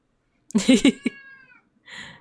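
A pet cat meows a few times in close succession near the microphone, followed after a brief pause by a softer, higher mewing sound, with no talking.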